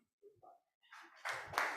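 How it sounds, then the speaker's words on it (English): Applause breaks out among the audience at a Lagos technical and business meeting. It is faint and distant, starting with a few scattered claps and swelling into a short burst of clapping. "Please a round of applause for him."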